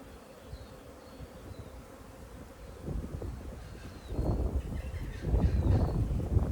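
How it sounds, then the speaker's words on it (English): Honey bees buzz steadily inside an open top bar hive during an inspection, a dense low hum that swells louder over time, with brief handling knocks and no talking. "Just lots of bees crawling around"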